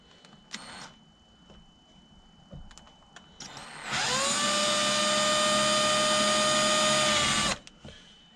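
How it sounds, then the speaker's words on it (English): A power drill fitted with a 4mm bit drills carefully into a carburetor screw from a 1986 Honda VF1000R, a few short trigger blips followed by one sustained, close, rising motor whine lasting several seconds before stopping. "we're going to drill into it with a 4mm drill bit, very carefully"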